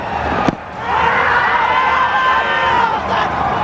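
A large cricket crowd at the Asia Cup final between India and Sri Lanka roars in a broad sustained swell of cheering and noise, loud and distant-sounding, after a brief sharp knock at the start.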